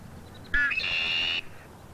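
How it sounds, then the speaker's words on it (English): A single red-winged blackbird song: a short rough note sliding into a sustained, buzzy trill lasting nearly a second, fairly clear against quiet background. "Here's the song of a red-winged blackbird."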